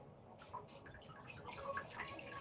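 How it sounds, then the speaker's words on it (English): Faint trickling and dripping as paint and water run off a marbling tray lifted out of the water, soft irregular drops and a light watery patter, quiet and close. "What you're going to see is dripping and running because there's a lot of paint on the surface of our tray"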